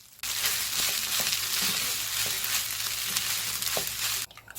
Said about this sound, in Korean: 오리 훈제고기를 잘게 썰어 배송원볶은 고추장에 넣어서 밥 볶아 먹었습니다